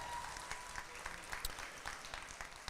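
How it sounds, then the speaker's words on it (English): An audience at a market hog show at the 2024 State Fair of Virginia applauding, a steady wash of clapping hands heard at moderate distance, without talk. "let's give your seniors a good round of applause"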